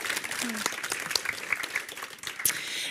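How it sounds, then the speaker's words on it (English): Audience applause at a crime fiction festival event welcoming two Danish authors, steady clapping throughout with a few sharper claps standing out. "So a warm round of applause for our two authors from Denmark."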